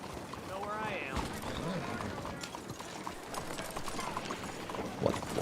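Horse hooves clip-clop in the video game Red Dead Redemption 2, a steady muffled rhythmic trot running beneath game noise and a voice talking.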